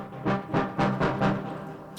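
Five swelling synthesizer notes in a steady pulse, each brightening and then dulling as a filter sweeps over it, played alone with no voices.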